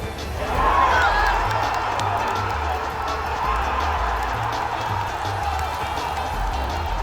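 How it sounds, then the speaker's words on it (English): A large crowd at an Evo fighting game tournament roars continuously in a big convention hall, a dense sustained wash of cheering and shouting that swells early and then holds steady throughout. "we still have the same crowd, and the roar is still there"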